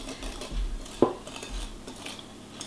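A whisk stirring chocolate cake batter made with crème fraîche in a mixing bowl, with soft scraping swirls and one sharp clink of metal against the bowl, close and quiet.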